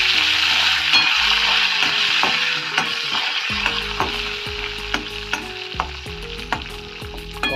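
Cumin seeds and curry leaves sizzling in hot oil as tempering for shavige bath, a loud, crackling fry with a bright hiss, punctuated by clinks and scrapes of a spoon against the pan as it is stirred.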